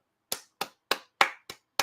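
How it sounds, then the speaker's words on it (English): Single pair of hands clapping six times in an even rhythm, sharp close slaps with short decays and silence between, no crowd. "We're giving a round of applause for the defense"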